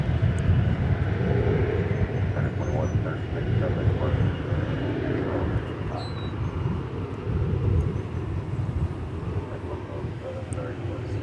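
An American Airlines Boeing 737-800 arriving at DFW Airport, a steady broadband jet roar that stays loud and continuous throughout, with a low rumble and no clear rise or fade.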